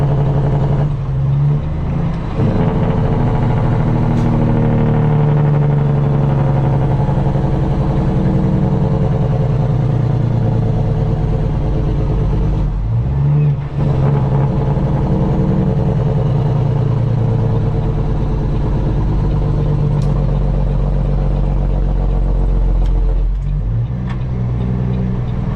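A custom Peterbilt truck with straight pipes runs its jake brake on a two-lane road, a loud, close, sustained staccato engine-brake roar that drops out briefly twice and returns.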